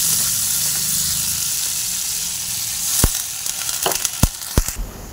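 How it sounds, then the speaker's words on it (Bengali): Potatoes frying in spice masala in a pan make a steady bright sizzle, joined later by several sharp clinks and scrapes of stirring against the pan. "এই দেখো মশলা কষানোর পর আলুগুলো দিয়ে একটু কষিয়ে নিচ্ছি।"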